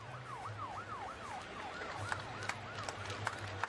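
An ambulance siren wails in a steady rising and falling cycle, fairly distant, inside a college football stadium, over a low rumble of traffic and scattered background noise.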